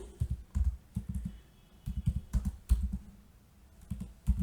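Computer keyboard typing a MySQL insert command, heard as irregular bursts of clicky keystrokes with brief pauses between runs, fairly close and moderately quiet, with no talking.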